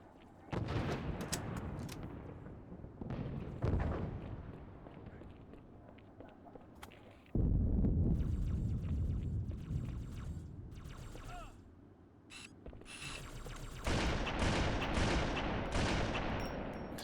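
Halo 2 gunfire from a console shooter, coming in heavy bursts of shots and blasts separated by quieter pauses, with footsteps and mechanical game sounds mixed in and someone talking at times.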